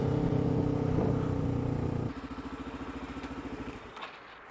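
A Suzuki DRZ motorcycle engine runs on the road, first a loud steady drone, then a lower, rhythmic pulsing chug as the rider eases off, close and with no talking.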